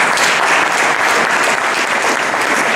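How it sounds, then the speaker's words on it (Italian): Warm, thick audience applause fills a lecture hall at an Italian talk on Totò, a steady wash of many hands clapping for the full stretch. "che ringraziamo con un caloroso applauso"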